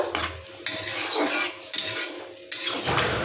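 A metal pot of taro and potato curry is covered with its lid, giving a few sharp metallic clanks and scrapes of cookware close by, with no talking.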